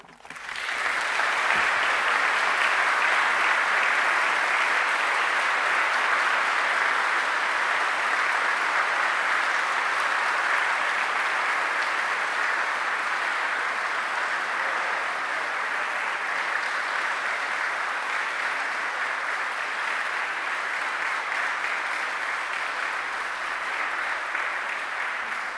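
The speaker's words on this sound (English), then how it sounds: "I think that applause says everything." A church audience at a parish novena claps after a talk, a dense, sustained round of applause that swells quickly and holds steady for over twenty seconds, with no speech over it.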